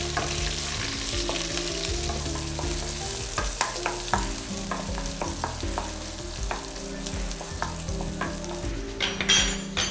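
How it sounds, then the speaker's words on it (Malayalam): Ginger, garlic and slit green chilies sauté in a hot pan, a steady close sizzle with repeated stirring scrapes and taps from a spatula running throughout, no talk. "നന്നായിട്ട് ഇവനെ ഒന്ന് വഴറ്റി കൊടുക്കാം."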